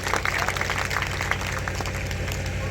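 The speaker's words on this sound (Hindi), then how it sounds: "महिला विधानसभा की अध्यक्ष गीता जी के लिए भी एक बार जोरदार ताली बजाइए आप लोग" An audience at a political gathering claps steadily, a dense, continuous patter of many hands that stays strong and even for the whole stretch.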